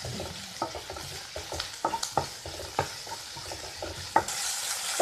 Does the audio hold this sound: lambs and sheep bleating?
no